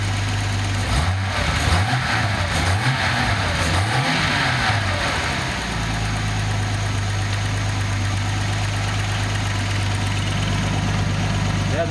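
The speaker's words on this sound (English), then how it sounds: "I'm going to throttle a few times." A Nissan 280ZX turbo engine blips its throttle several times in close succession, the revs rising and falling in repeated swells before settling into a steady, loud idle.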